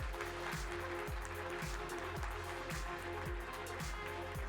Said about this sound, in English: Please help me with a big round of applause to welcome Lina Dabit.